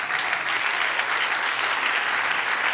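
A church congregation breaks into dense, steady applause during a Spanish-language sermon, a loud continuous wall of clapping that holds at an even level throughout.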